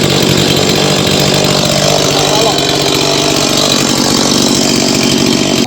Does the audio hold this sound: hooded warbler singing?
no